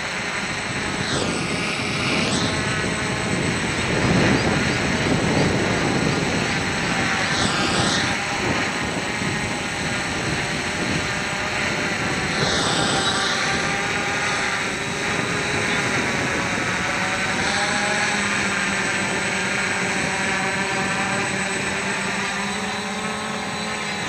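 An HK X650F multicopter fitted with DJI 10x3.8 propellers descends slowly and steadily outdoors in windy conditions, its loud buzzing propeller drone continuous throughout, with a few whooshing gusts.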